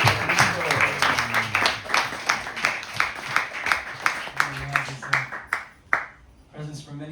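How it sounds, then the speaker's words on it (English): An audience at a morning gathering claps for a guest, with a burst of loud applause that trails off into scattered claps. Someone speaks over the clapping. "A huge round of applause."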